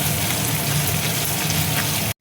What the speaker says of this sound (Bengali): মশলা ধোয়া জলটা দেখো দিয়ে দিচ্ছি